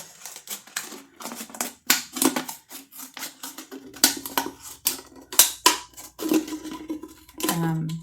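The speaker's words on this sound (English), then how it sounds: "you're just going to cut the top of the bottle off" Scissors cut the top off a plastic water bottle: a series of sharp, close snips and crackly plastic crunches arrive in an uneven rhythm, with a few louder clacks toward the end.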